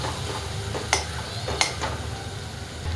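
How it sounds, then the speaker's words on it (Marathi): Green chilies and garlic frying in hot oil, a steady close hiss with a couple of light scraping clicks as they are stirred. "आपली मिरची आणि लसूण छान असं तळतंय."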